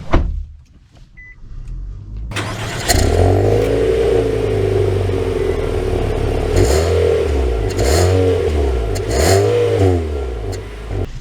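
A 2024 Nissan Altima setting off, its engine rising from quiet into a loud, steady drone that climbs and falls in repeated swells of revving as the car gets moving.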